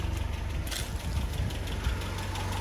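A Land Rover Series 3 engine idles after a carburetor overhaul, a steady low chug with a faint rhythmic knock, heard close and moderately loud with no talk.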